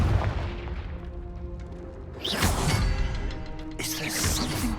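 A Confringo fire spell blast erupts in Hogwarts Legacy, loud booming bursts with crackling fiery impacts, one hitting a couple of seconds in and a second following, over a low rumbling game background.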